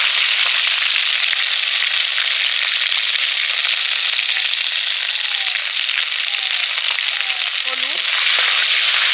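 Spices and a ground paste of onion, ginger, cumin, coriander and green chilli frying in hot oil, making a loud, steady close-up sizzle with fine crackling throughout.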